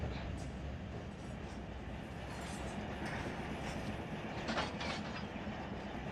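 A freight train rolls along the rails in the Run 8 train simulator game, a continuous rumbling clatter with faint squeals, steady and moderately loud under soft talk.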